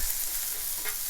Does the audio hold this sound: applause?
no